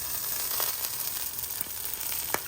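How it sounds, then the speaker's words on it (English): Sausage sizzling in a well-seasoned 1976 Lady Beth's omelet pan with a wooden handle, a steady close hiss with occasional small pops and crackles. "So we're cooking some sausage to put on our rolls."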